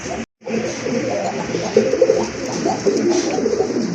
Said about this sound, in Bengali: আরেক জোড়া কবুতর, গিরিবাজ কবুতর, সিলভার টাইপের, সিলভার কালারের ভিতরে খুবই চমৎকার এক জোড়া কবুতর